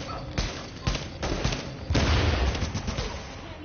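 Gunfire in the video game Stolen Signal: a string of loud, heavy shots and booming bursts over a continuous rumbling background, with no speech.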